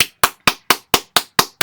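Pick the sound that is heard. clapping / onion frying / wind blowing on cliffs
clapping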